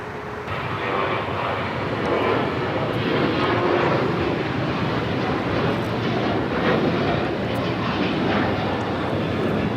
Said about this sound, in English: We're looking at Aeromexico 644 coming in from Mexico City on the MAX 8.